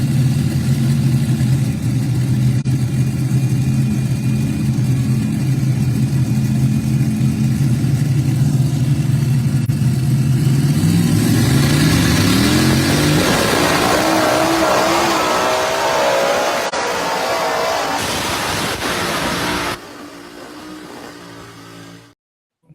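A pulling tractor's engine at a tractor pull roars loudly and continuously, pitch climbing as it revs hard through a long run before the sound drops off abruptly at the end.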